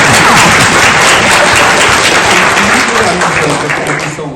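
A TEDx audience in Naperville bursts into loud, sustained applause that fills the hall and tapers slightly at the end, with faint voices underneath.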